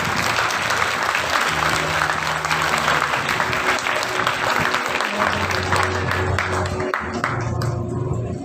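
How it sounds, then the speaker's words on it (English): A steady, loud burst of audience applause at a school festival prize-giving, dense clapping sustained throughout with crowd murmur beneath. "Once again, a round of applause for them."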